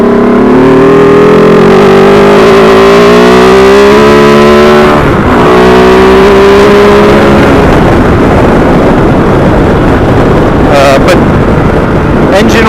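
A KOVE 450 Rally motorcycle engine revs loudly up close, climbing and falling in pitch, then settles into a rough, sustained drone with wind noise while the bike is ridden.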